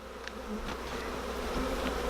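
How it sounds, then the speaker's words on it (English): Quiet, steady buzzing of a swarm of honey bees around an opened hive, with a few individual bees droning past more closely over a low continuous hum. "There's thousands of bees flying around."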